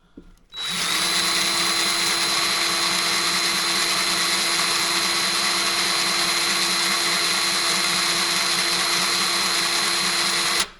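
A Bauer 20V electric grease gun motor whines continuously at close range with a constant high-pitched hum, starting abruptly and running unbroken for about ten seconds before cutting off.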